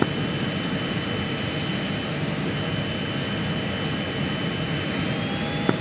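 Jet aircraft engines running up on a runway in a flight simulator game, a loud steady broadband roar with a faint high whine, continuous and close throughout.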